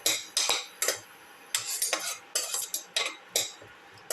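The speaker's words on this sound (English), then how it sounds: "Saute the shallots and the garlic thoroughly." Shallots and garlic stirred in a pan, heard as a run of short separate scraping and clinking strokes from a utensil with brief pauses between them, close and clear with no talk.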